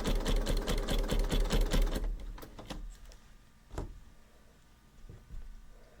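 Sewing machine stitching bunting fabric, a fast loud rhythmic mechanical whirr for about two seconds, then slowing into scattered short stitching bursts and clicks, close up with no talk.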